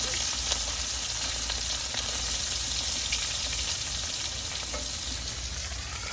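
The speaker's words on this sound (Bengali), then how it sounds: "খাওয়ার জন্য বন্ধুরা জাটকা মাছগুলো বেজে নিতে" Small jatka fish frying in hot oil in a home kitchen, a steady close, loud sizzle throughout with occasional crackles and stirring.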